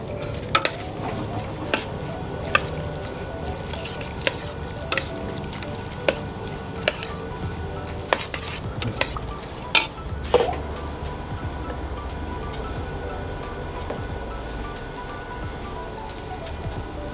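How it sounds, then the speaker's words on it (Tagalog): Pancit bihon rice noodles being stirred through sauce in a pan, giving soft wet squishes and scrapes with occasional sharp clicks of utensil on metal, steady and close throughout. "Haluin lang natin hanggang masipsip niya yung sauce"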